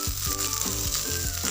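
Cut potatoes tipped into hot oil with lightly browned onions and green chillies hiss in a loud, continuous sizzle, with rhythmic scraping from stirring.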